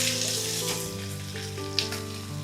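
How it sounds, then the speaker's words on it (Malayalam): Finely chopped onion frying in hot coconut oil, a dense, even sizzle close by with faint stirring scrapes and a brief sharper crackle, under quiet background music. "ഇതിലേക്ക് നമ്മൾ ചെറുതാക്കി നുറുക്കിയ സവോള"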